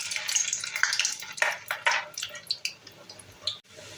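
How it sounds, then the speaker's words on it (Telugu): Snacks frying in hot oil, a quiet sizzle with irregular crackles and pops, close and alone without talk. "ఆయిల్ బాగా వేడైన తర్వాత ముందుగా మనం చేసుకున్న వీటిని కొద్దిగా వేస్తూ కాల్చుకోండి"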